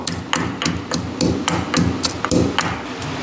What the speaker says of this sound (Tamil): இஞ்சி பச்சை மிளகாயே இந்த அளவுக்கு நச்சாச்சு